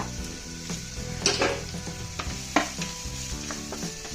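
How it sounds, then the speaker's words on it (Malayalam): Two small finely chopped onions frying in a pan, a close steady sizzle broken by a few sharper stirring scrapes and clinks, with no voices. "പൊടിയായിട്ട് അരിഞ്ഞ രണ്ട് ചെറിയ സവാള ഇട്ട് കൊടുക്കാം നമുക്ക്"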